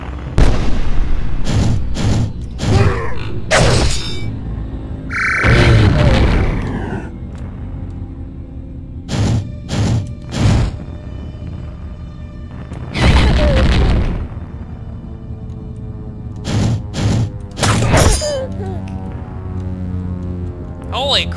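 Repeated deep booms from bombs going off in a video game, several loud broadband bursts spaced irregularly, with talk and game noise between them.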